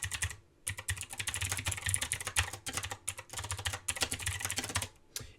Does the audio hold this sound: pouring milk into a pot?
no